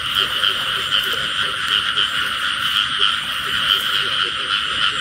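Frogs croak in a rice field at night, a dense, continuous chorus of many calls, loud and nearby, with no talk over it.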